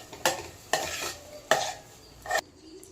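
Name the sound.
curry leaves sizzling in fish curry masala while stirred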